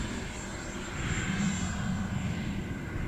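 A small airplane engine drones steadily at full throttle through the takeoff climb after rotation, a loud, continuous hum with a faint high whine above it and no talk.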